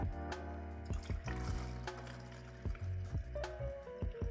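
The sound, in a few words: warm water for film pre-wash being poured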